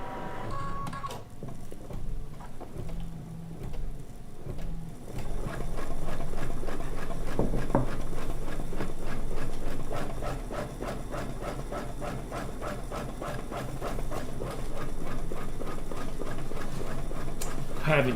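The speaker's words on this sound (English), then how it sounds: "we're going to press the start button and we are going to do the basting stitch" A sewing machine runs a basting stitch on a quilt block: after a short quieter start, a steady rapid mechanical whir and needle chatter continues close by for the rest of the time.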